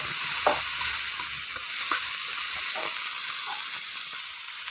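Tomatoes fry in a clean pan with a strong, close, continuous hissing sizzle and a few soft stirring scrapes, easing slightly near the end.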